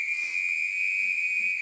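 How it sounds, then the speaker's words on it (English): A single steady whistle blast held at constant pitch for under two seconds, shrill and fairly close, with faint background noise beneath. "Blow the whistle."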